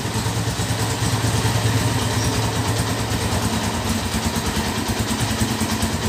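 A 2012 Honda Tiger motorcycle engine idles steadily and loudly up close, with a continuous low throbbing rumble and light mechanical clatter, no voices over it.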